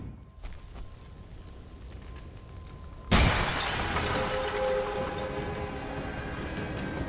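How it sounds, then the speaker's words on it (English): A sudden loud explosion in the Tomb Raider remake video game, a sharp blast followed by a sustained rumbling roar and debris, after a few seconds of quieter ambient game sound. "I saw it coming and still the explosion scared me."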